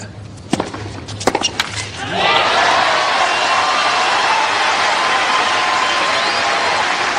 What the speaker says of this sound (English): some applause in the players' box